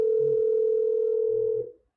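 A telephone dial tone before a radio phone call, one loud, steady, unbroken tone held for about a second and a half before cutting off abruptly into silence.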